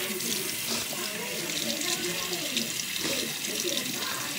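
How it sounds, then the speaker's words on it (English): Water runs steadily from a tap into a sink, a continuous close hiss and splash with faint talk underneath. "Turn that water off."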